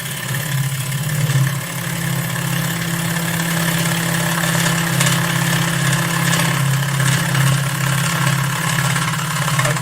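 A wood lathe runs with a steady, close motor hum while a gouge is pushed along spinning wood, a continuous hiss of cutting laid over the drone.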